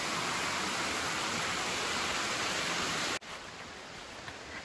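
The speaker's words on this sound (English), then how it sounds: "Love the sound of the water." Water pours steadily at Rainbow Falls in Trough Creek State Park, Pennsylvania, a loud continuous rushing hiss up close that cuts abruptly to a softer, more distant flow.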